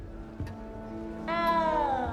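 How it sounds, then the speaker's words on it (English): A small frightened cat meows in a fantasy wizarding-school video game, a drawn-out, rising-and-falling harmonic cry that comes in loud and close after a faint earlier mew over a low game ambience. "You don't need to be frightened, little cat."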